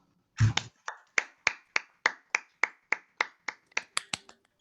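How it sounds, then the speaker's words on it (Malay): Group clapping for Encik Anwar at a leadership training session: a steady, evenly spaced series of about fourteen crisp, sharp claps in unison, close and clear against near silence. "Tepukan untuk Encik Anwar."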